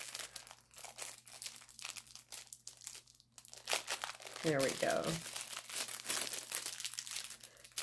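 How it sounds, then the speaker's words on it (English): Plastic packaging for a silicone spatula is crinkled, pulled and torn open by hand without scissors, giving close, fitful rustling and crackling that grows louder midway, while someone speaks briefly. "Let me see if I can get this open without scissors."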